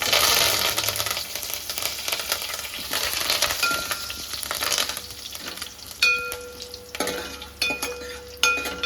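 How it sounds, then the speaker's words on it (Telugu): Curry leaves frying in hot oil for Andhra-style sambar, a steady crackling sizzle with stirring scrapes and a few sharp metallic taps against the pan, moderately close and without talk. "కరివేపాకు కూడా వేగిన తర్వాత"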